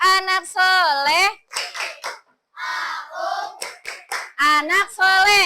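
Children perform the 'tepuk anak soleh' clapping chant in an Islamic religious classroom, loud sung and shouted phrases in rhythmic bursts with short pauses and sharp claps between them.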